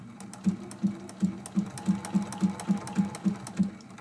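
A sewing machine runs a narrow satin stitch around a quilt block's stem, width set to 1.6 and length 0.4, giving a steady run of about a dozen evenly spaced mechanical clacks over a low motor hum, with no talking.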